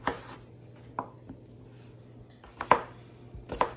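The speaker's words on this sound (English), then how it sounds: "you're gonna start dicing up your potato" A knife dicing a clean potato on a cutting board, a few sharp, separate chops with pauses between them, close and crisp against a quiet background.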